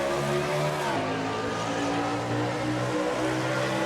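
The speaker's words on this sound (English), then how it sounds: "we're gonna ride with Kyle Matthews on the restart" Race car engine roaring from an in-car camera in the NNSCRA Castrol GTX Cup sim racing game, loud and steady with shifting revs and gear changes throughout, no talking.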